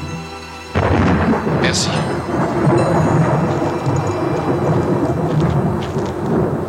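Heavy rain roars steadily during a mountain thunderstorm, with a deep rumble of thunder building underneath, loud and close throughout; a brief spoken word comes near the start.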